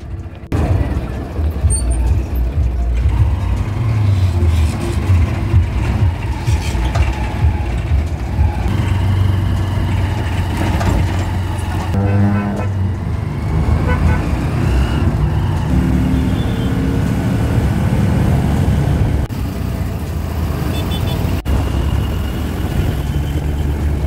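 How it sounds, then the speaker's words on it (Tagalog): Motorized tricycle riding through city street traffic near a market, with a steady rumbling engine and passing vehicles continuous and close throughout, and voices faintly mixed in. "nakasakay na kami sa tricycle"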